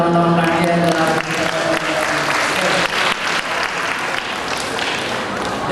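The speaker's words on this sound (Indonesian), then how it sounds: "Tepuk tangan buat teman-teman kami yang telah" Loud applause breaks out from a seminar audience at IAIN Surakarta just as a voice trails off, then continues as thick, close, steady clapping through the rest.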